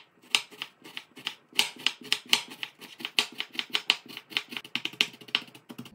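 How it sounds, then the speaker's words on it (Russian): Knife finely dicing an onion on a cutting board, a fast run of sharp, close chopping taps in steady rhythm, heard alone without talk. "Закончила нарезать репчатый лук."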